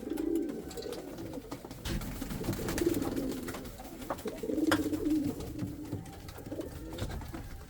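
Indian fantail pigeons cooing in soft, repeated low rolling phrases, several birds close by against a steady background hiss, with no voices.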